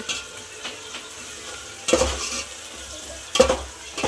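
Frying and stirring in a pan while making biryani, with onions cooking as a soft sizzle runs underneath and two sharper scraping stirs stand out near the middle and end.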